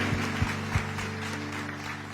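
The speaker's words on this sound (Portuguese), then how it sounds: "Eu convido você a dar um louvor de palmas bem forte a este Deus maravilhoso." A congregation at a church service claps in praise, a dense, steady wash of hands with a few heavier thumps near the start, heard at moderate distance.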